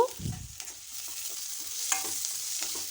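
Onion pieces with a pinch of turmeric fry in a pan, giving a soft, steady sizzle with occasional light stirring clicks, close and moderately quiet.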